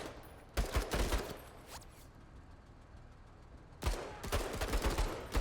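Bursts of gunfire in the sci-fi turn-based tactical game Menace, two loud volleys of rapid shots separated by a quieter stretch, with no talk over them.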